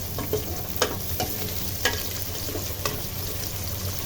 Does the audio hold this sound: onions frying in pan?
yes